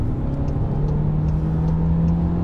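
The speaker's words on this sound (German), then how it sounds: "Ihr hört den Motor aber jetzt natürlich deutlicher." A Seat Leon FR with the 1.5 eTSI engine pulls hard at full throttle, a loud continuous drone with a steadily rising engine tone under heavy road and wind noise.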